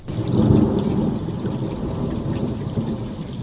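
Rain and thunder as a radio drama sound effect, a loud continuous roar of heavy rain under a deep rolling rumble that swells early and stays constant, with no talking.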